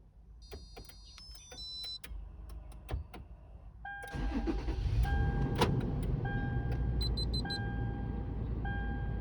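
A fifth-generation Toyota 4Runner's remote start triggers a rising engine crank into a steady idle, with sharp electronic beeps and chirps plus clicks of door locks engaging.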